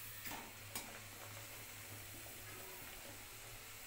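Potato-filled kachori deep-frying in oil gives a faint, steady sizzle throughout, with a couple of soft clicks near the start.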